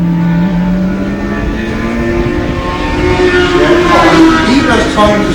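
A racing motorcycle at a Pembrey Bandit Challenge race sweeps past on the track, a loud engine drone rising and shifting pitch as it approaches, with a commentator's voice over it.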